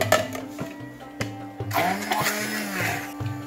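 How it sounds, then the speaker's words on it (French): Kitchen blender puréeing cooked vegetables for a chorba sauce, whirring in steady bursts with pitch shifts as the load churns, close and fairly loud with no voices. "Une fois que j'ai fini de mixer mes légumes"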